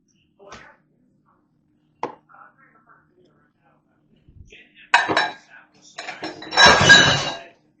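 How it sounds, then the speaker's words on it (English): Dishes and a mixing bowl clink and clatter on a kitchen counter in short separate knocks, louder rattling handling toward the end, with a voice briefly speaking nearby. "let me grab a mixing bowl"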